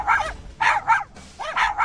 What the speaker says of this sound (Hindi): कुछ देर बाद 2 कुत्ते आकर उस पर भौंकने लगे।